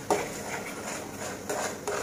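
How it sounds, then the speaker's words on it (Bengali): Eggs stirred in a pan while cooking pasta, with a few sharp utensil scrapes and clinks against the pan over a soft, steady background hiss, close and moderately loud. "ডিমটাও ভালো করে চুনা চাড়া দিয়ে নেব।"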